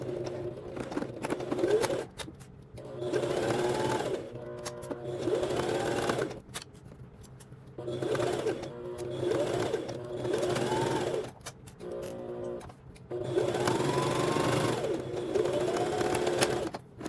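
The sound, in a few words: sewing machine stitching jumpsuit fabric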